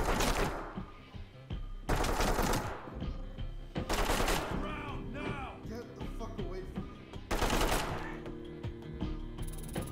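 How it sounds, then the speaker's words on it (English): Gunfire in the tactical shooter game Ready or Not: several loud bursts of shots in quick succession with mechanical clatter between them, while voices talk in the background. "There's a guy shooting on the right."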